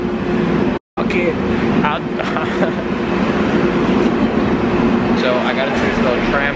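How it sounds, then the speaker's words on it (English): A tram-like train in Las Vegas rumbles on continuously with a dense, steady roar, while someone talks over it. "Man, I don't feel like I'm supposed to get on this train"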